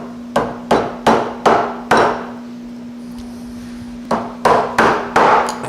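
Mallet blows drive a chisel into the dovetail corner of a wooden Shaker end table: a quick run of five sharp knocks, a pause, then five more, close and loud over a steady low hum.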